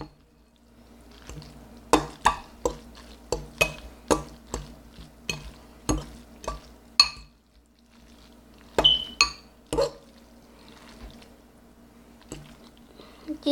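A fork stirs Korean fire noodles in a container, tapping and clinking against the sides in a run of crisp, irregular knocks, close and clear, with a short quiet gap before a few more clinks.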